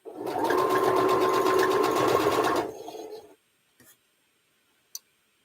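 A home sewing machine stitching a fabric piece on, a fast even mechanical whirr for a few seconds that stops abruptly, followed by a couple of faint clicks.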